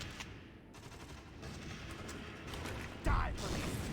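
Gunshots in the tactical game Valkyria Chronicles, a continuous rattle of gunfire with one sharp louder report near the end.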